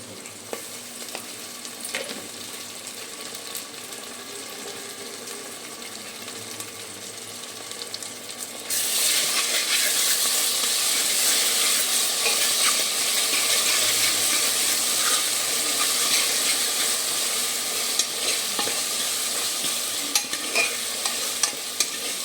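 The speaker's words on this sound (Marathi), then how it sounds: "कांदे आपल्याला चांगलं 2 ते 3 मिनिटं परतून घ्यायचं आहे।" Onions sautéing with ginger garlic paste in a hot pan, a continuous close sizzle and stirring that turns noticeably louder and brighter partway through and keeps hissing to the end.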